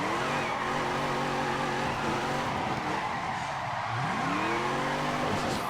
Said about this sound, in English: Such a loud car.